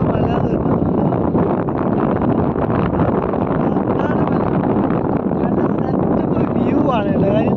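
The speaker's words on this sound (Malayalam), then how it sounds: "കാറ്റുണ്ട് ഗൈസ്" Strong wind buffets the microphone on a high hilltop by a temple at Chitharal in Tamil Nadu, a loud, steady rushing roar that continues throughout.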